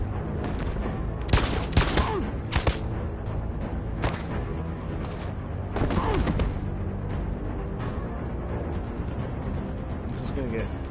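In the video game Detroit Become Human, gunfire comes as sharp bursts of shots, several clustered volleys with pauses between, loud against a droning game soundtrack while a person talks.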